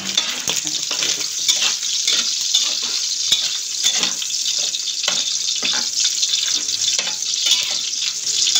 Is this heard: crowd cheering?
no